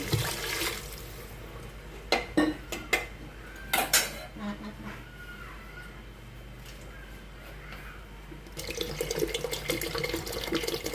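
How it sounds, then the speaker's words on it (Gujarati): Metal pots and utensils clank a few times, then water pours steadily into a pot of tempered khichdi for the last couple of seconds. "હવે થોડું પાણી રેડી દઈએ"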